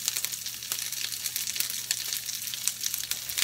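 A sprig of curry leaves crackles and sizzles in hot oil for a vegetable thoran, a dense close hiss with rapid tiny pops running throughout.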